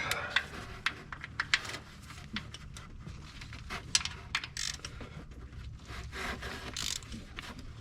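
Wrench work loosening bolts on the 3.7L water pump of a 2009 Jeep Grand Cherokee: quiet, irregular ratcheting clicks and metallic scrapes repeat throughout at close range, with no talking.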